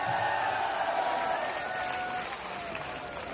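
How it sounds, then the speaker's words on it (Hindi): A crowd at a political rally hoots and cheers, a continuous dense roar of many voices with whistle-like tones rising above it, fairly loud and sustained throughout. "और फिर आप देखेंगे जो हूटिंग होती है पीछे जनता की"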